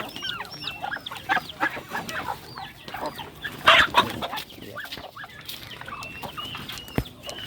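Chickens cluck and chatter steadily nearby, with overlapping calls from several birds and a louder burst of squawking partway through.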